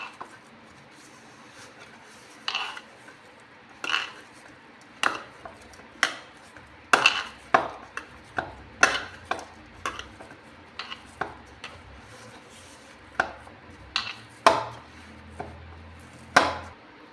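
A mixture for pede is mashed by hand in a bowl, giving irregular close taps, knocks and squelchy slaps with quiet gaps between them and no talking.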